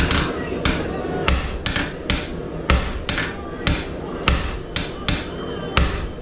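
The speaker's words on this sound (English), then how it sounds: "the first blow, you want to hit it hard so you actually sink the metal." A hammer strikes hot metal on an anvil while a fireplace brush is forged, a loud, close, steady run of sharp ringing blows about twice a second, each followed by a short metallic decay.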